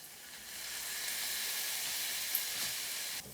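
Champagne vinegar hits a hot pan with a loud, steady sizzle and hiss that holds for a few seconds before a brief clatter at the end, no voices present.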